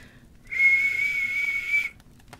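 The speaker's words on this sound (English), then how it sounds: "Suddenly, out came a real whistle." A single real whistle blown by a child in a read-aloud storybook scene: one steady, fairly loud, bright tone that holds for well over a second and then stops, with quiet room ambience around it.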